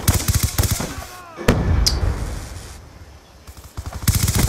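Bursts of light machine gun fire in a video game, rapid repeated shots loud and close at the start and end, with a lull of rumbling echoes and scattered impacts in between.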